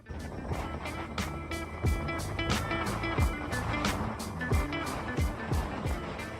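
A flood-damaged 1985 Chevy camper van idles close by, its engine churning in a steady, even drone with a rhythmic knock that repeats about twice a second.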